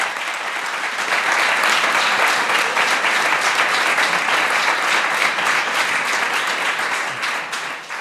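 Sustained applause from an audience at a book presentation in Spain, dense and loud, holding steady for several seconds before starting to taper at the end.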